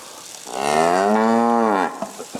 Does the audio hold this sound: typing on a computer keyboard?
no